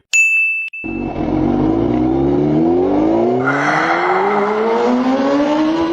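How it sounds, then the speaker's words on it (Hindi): A Honda motorbike starts with a bright metallic ding and a brief clatter, then its engine catches and revs steadily upward, loud and close, with the pitch climbing continuously for several seconds and no voices. "मैं होंडा निकाल कर लाता हूँ, जल्दी पहुँच जाएंगे।"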